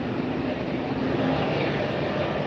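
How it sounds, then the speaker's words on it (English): Embraer Phenom business jet at an airport on a windy day, a steady broad roar of engine noise mixed with wind, loud and continuous. "There's the Embraer Phenom."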